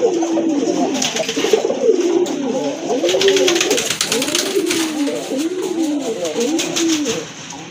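Repeated soft, rounded coos from several Rajgolla and other pigeons at a pigeon farm roll on in a steady rhythm close by, with faint chatter and rustling in the background.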